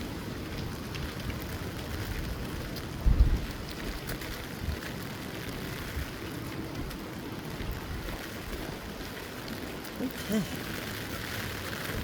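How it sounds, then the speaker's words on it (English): Rain falls steadily outdoors near a small store, a soft continuous patter with light wind noise on the microphone and a few knocks, while someone speaks briefly. "Alright, it's raining."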